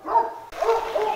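A big dog barks in the Jamaican bush, two short barks close by, alone with no talk over them.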